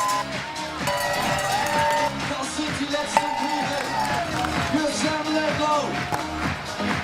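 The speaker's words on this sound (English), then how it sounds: "We can hear the crowds behind us here getting pumped up, ready to bring him home" A crowd cheers and whoops near the finish of the Challenge Roth triathlon, a steady outdoor roar with scattered shouts and some clapping, mixed with a busy background of voices.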